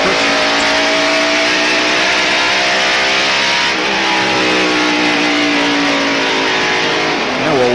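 Stock cars in the 1993 Bud 500 NASCAR race scream past in a tight pack, a loud, continuous wall of high-revving V8 engine roar with shifting pitch as cars pass close by.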